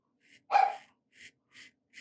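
A dog lets out one clear bark followed by a few softer yips or huffs, fairly close in an otherwise quiet indoor space.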